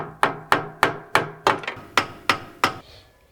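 Eight evenly spaced, sharp metallic hammer taps on the steering rack of a 2019-2023 BMW G05 X5, close and loud, each ringing briefly before the next, with no talking.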